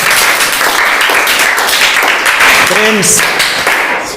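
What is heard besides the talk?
clapping for a quiz answer in a coaching class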